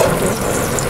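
Garlic hitting hot oil for tofu soup, a dense, steady sizzle filling the short moment without pause.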